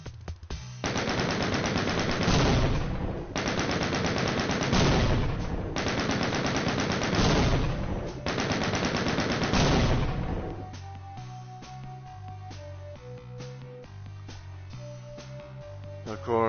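Rapid automatic gunfire from modded weapons in Doom 2 blasts in several long sustained bursts, loud and dense, then gives way to quieter game music with tonal notes.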